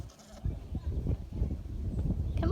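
Nigerian Dwarf goats bleating close by in short repeated calls, with some rustling and shuffling around them.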